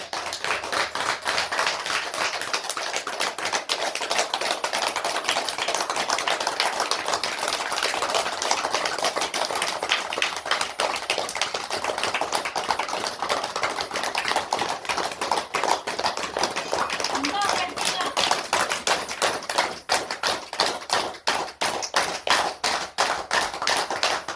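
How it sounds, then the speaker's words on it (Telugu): A large audience claps loudly and continuously for over twenty seconds, a dense, rapid run of hand claps holding an even level with no talk over it. "సరే గట్టిగా క్లాప్స్"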